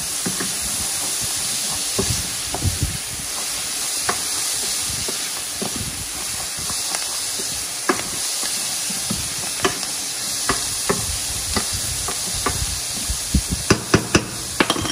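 About a tablespoon of butter sizzles in a pan for a spicy Asian stir fry, giving a steady loud hiss with scattered crackles and pops throughout.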